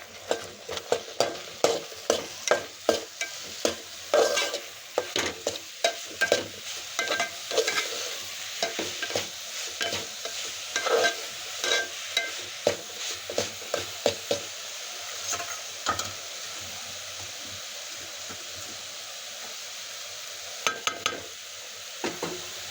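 Fresh grated coconut is stirred into melted jaggery in a pot for ukadiche modak, with repeated scraping strokes and soft clatter over a faint simmer, close and steady, with no talk.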